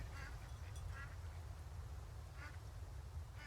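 Ducks quack in the farming video game Farm Together 2, with a few faint, scattered quacks over steady low ambient background noise.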